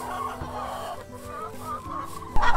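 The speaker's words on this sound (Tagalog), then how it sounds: "Sila ay 54 na mga manok dito. Busy na sila sa pangingitlog." Free-range hens cluck and murmur around their freshly bedded laying nests, a continuous mid-level chorus from several birds with a sharper squawk near the end.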